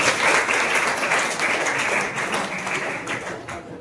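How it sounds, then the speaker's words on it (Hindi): Sustained applause from a crowd at a school quiz competition, steady and dense clapping that holds throughout before slowly thinning toward the end. "जोरदार ताली इसके लिए।"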